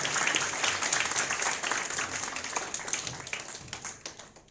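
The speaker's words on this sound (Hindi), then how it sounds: "मुल्तान के लिए ताली बजा दीजिए।" An audience applauds at a Mahashivratri function in Multan Nagar, with dense, overlapping clapping that is strongest at the start and gradually thins and fades toward the end.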